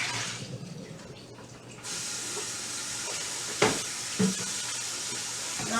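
Water is poured off from a bowl into a kitchen sink and the bowl rinsed, a steady broadband splash and hiss with a few brief clunks near the end.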